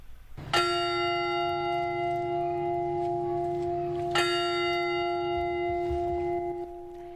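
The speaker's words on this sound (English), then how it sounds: "The bell tolled 14 times to remember those who died." A church bell tolls twice at a memorial for a mass shooting, each strike loud and clear, with a long ringing hum between them that slowly fades.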